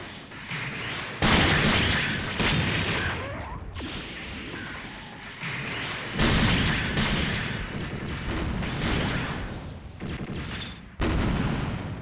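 Beam rifles fire in SD Gundam Online as an S-rank Xi Gundam battles, with repeated sharp blasts and booming impacts in irregular bursts over steady game noise.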